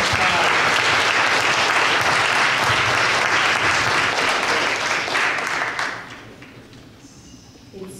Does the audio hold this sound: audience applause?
yes